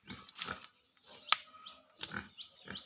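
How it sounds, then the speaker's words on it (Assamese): Pig grunting on a small local farm in Assam, a grower of around 50 to 60 kg kept on bare ground; several short snorting grunts come close by in bursts, with a sharp squeal-like click midway and no talk. "এইটো গাহৰি"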